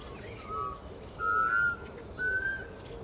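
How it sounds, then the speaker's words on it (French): Small birds sing at morning in the Okavango, Botswana, giving three clear whistled notes, the later ones longer, over a steady background hiss of outdoor ambience. "se réveiller avec les petits oiseaux? Beaucoup d'oiseaux"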